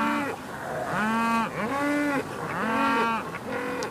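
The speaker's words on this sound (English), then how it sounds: "Animals are thirsty again, sir." Thirsty cattle moo repeatedly aboard a ship, several long drawn-out lowing calls overlapping in a steady rhythm, loud and close, with no talk.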